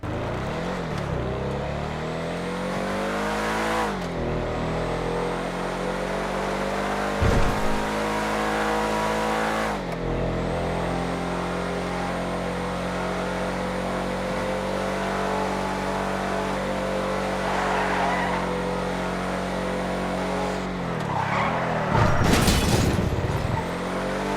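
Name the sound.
off-road car test drive with skidding, from a video game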